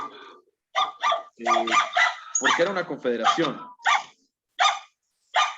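A small dog barks in sharp, repeated yips through someone's open microphone during an online maritime law class. The barks are interleaved with a person speaking.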